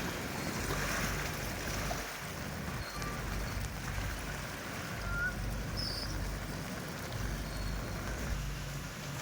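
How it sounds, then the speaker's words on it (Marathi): Floodwater from a heavy downpour rushes over a town street in Ardhapur, near an SBI bank, making a continuous, even roar of flowing water with no breaks. "आपण पाहू शकता की कशा प्रकारे रस्त्यावर पाणी आले"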